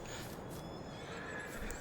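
A horse in the video game Farming Simulator 22, on the Elm Creek map, gives one drawn-out whinny, fairly faint and heard alone.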